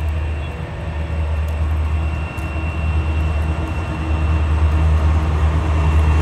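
A train passes on the main track at the Hypoluxo siding, producing a loud, close, continuous rumble with a steady mechanical drone that holds throughout.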